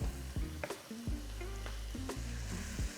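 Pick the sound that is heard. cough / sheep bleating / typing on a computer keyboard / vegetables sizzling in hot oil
vegetables sizzling in hot oil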